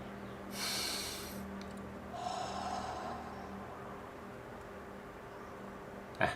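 Two deliberate breaths taken at rest during a brainwave measurement, each a soft, airy rush lasting about a second, followed by quiet and a brief sharp noise at the very end.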